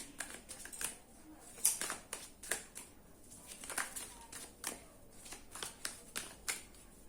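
Tarot cards shuffled by hand, a steady run of soft, quick riffling flicks and slaps repeating close up, with no talking.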